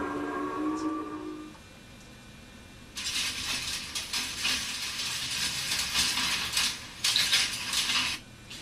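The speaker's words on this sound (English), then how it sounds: "that's the sound of a very old-fashioned printing machine with all the type being put into the correct places." Dense metallic clattering and ticking from an old-fashioned printing machine setting type, busy and continuous, after a quieter tonal opening.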